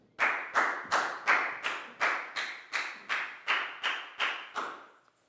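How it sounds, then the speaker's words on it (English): Classroom of Year 4 students clapping in about eleven regular, evenly spaced bursts, each crisp and fairly close, with no talk and a quick stop at the end. "Big round of applause for Lakau, guys."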